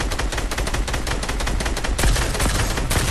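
Dense, continuous automatic gunfire from a video game, rapid shots rattling nonstop at full loudness for the whole stretch with a heavier burst near the end.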